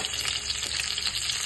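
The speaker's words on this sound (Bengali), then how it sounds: "এগুলো আগে আমি দুটো ভেজে দিই।" Vegetables frying in a pan give off a steady, bright sizzle close by, continuous and unbroken with a few faint crackles.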